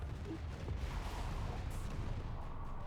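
Ships take fire in the space strategy game AI War 2, a continuous rumble of booming artillery-like impacts, fairly faint and steady, with no talking.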